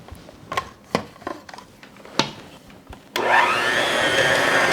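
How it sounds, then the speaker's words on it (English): After a few clinks and knocks of bowl and utensils, an electric mixer starts up loud and close, whirring steadily as it works a stiff oatmeal raisin cookie dough. "if I have a hard time mixing it with the mixer because it's stiff"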